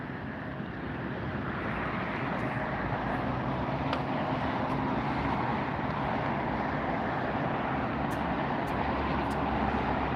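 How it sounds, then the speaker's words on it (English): An Air Canada widebody airliner, just arrived from Toronto, moves on the ground at LAX airport, a steady broad jet roar heard from a distance with wind noise on the microphone. "Yep, that's Air Canada, just arrived from Toronto."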